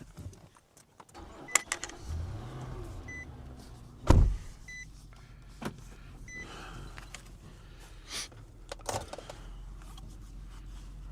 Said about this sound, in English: I am getting in the car and locking the door and starting the engine.